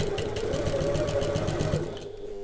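A sewing machine stitches a handbag panel at regular stitch length, a steady close mechanical whirr with fast needle chatter running continuously, then easing off near the end, with no talking.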